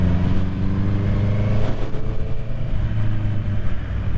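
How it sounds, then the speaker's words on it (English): Exhaust of a 2021 Honda CB650R four-cylinder motorcycle, a loud close deep burbling engine note with steady pulsing throb and slight rises in revs. "the sound of this exhaust is like ASMR to me"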